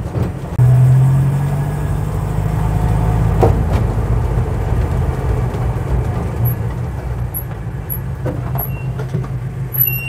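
A 1958 Ford Thames 400E bakery van's engine runs steadily close by at an airfield, a low rumbling idle that continues throughout with a few faint clicks and chirps.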